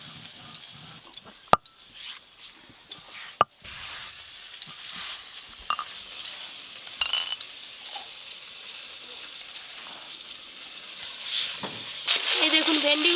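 Okra frying in oil in a home kitchen, a soft steady sizzle with occasional stirring clinks and scrapes, growing louder and hissier near the end.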